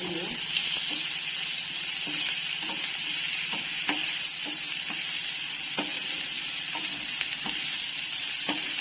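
Mutton liver mixed with ginger garlic paste in a hot pan, giving a steady hiss of frying broken by regular clicks and scrapes of a spatula stirring, close and even throughout.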